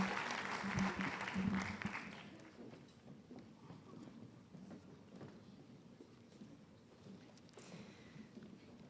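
Applause from a school assembly crowd honoring graduates at a high school senior assembly, loud clapping for the first two seconds, then fading into a murmur of shuffling and scattered voices as people return to their seats.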